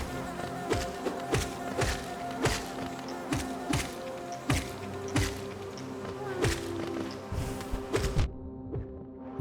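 Bees buzz inside a beehive in the video game Hollow Knight: a continuous insect drone under a regular beat of soft thumps, fairly quiet and steady throughout.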